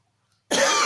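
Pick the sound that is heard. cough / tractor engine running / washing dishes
cough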